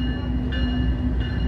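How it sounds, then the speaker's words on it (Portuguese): A train rolls past a bus station in Cubatão, São Paulo, giving a loud, steady rumble with metallic ringing tones that swell briefly twice, heard nearby without speech. "Ó o trem passando, hein?"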